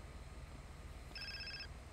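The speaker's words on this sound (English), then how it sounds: "Oh, phone call." A phone rings in GTA San Andreas Definitive Edition on PS5, one short electronic trill over a low background hum.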